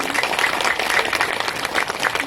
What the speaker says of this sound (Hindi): तारा दीदी के लिए जोरदार तालियां बजाएं सभी।